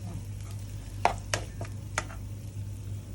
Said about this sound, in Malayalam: ചിക്കൻ വറക്കാനായിട്ട് ഉപയോഗിച്ച അരപ്പാണ് അതിൻ്റെ ബാക്കി എടുത്തു വെച്ചിട്ട് അതിനൊന്ന് ജസ്റ്റ് ഫ്രൈ പോലെ ആക്കിയിട്ട്